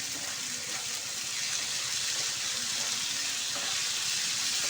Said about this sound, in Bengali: সেই চাল আর ডালটা এর মধ্যে দিয়ে একটু ভেজে নেব